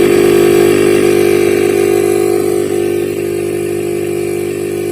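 A refrigerator compressor runs out in the open on a repair bench, giving off a loud, steady mechanical hum with a strong low drone that eases slightly in level partway through.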